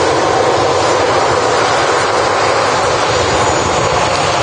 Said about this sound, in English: Next arrival, another Ryanair.